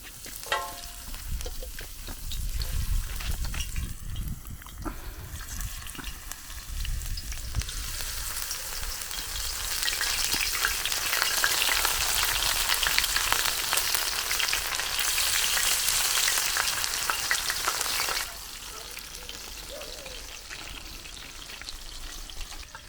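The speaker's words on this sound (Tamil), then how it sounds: "ஆயில் சூடாகிடுச்சுண்ணா அப்படியே நண்டு இறக்கிடலாம் உள்ளார." A batch of about 2 kg of crab sizzles in hot oil for a village-style Chettinad crab fry, a loud, continuous hissing and crackling that swells into a brighter, fiercer sizzle midway and then eases back, with no voices.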